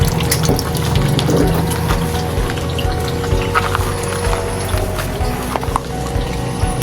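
Water runs steadily from a newly installed hand pump at a simple house, a loud continuous splashing gush with faint mechanical tones underneath and no talking.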